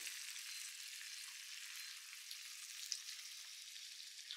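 Beef patties sizzle on a hot griddle plate, giving a steady, bright, hissing crackle that holds evenly from start to finish, with a small pop near the end and no talking.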